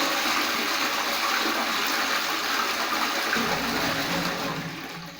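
A western commode toilet, just repaired for a water leak, flushes with a loud, continuous rush of water close by that gradually eases toward the end.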